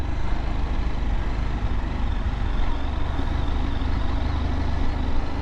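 A CFMoto IBEX 800T motorcycle pulls away in gear with a steady, dense low engine rumble and wind roar, continuous and fairly loud throughout.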